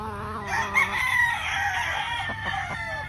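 Pure Possum broodstag rooster crowing and clucking close by, a continuous loud call over a few seconds with rough harmonic tone.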